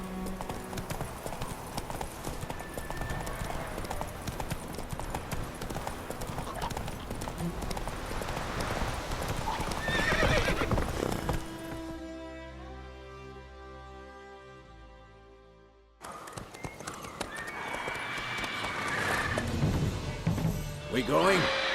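Roach, a horse in The Witcher 3, gallops with steady rapid hoofbeats and a whinny, mixed with game music and voices; the hooves drop out briefly mid-clip before the ride resumes.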